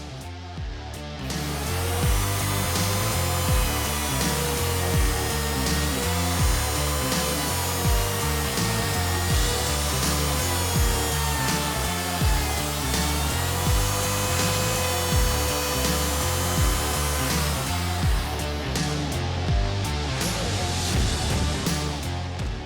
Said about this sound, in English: Router's still set up, so away we go.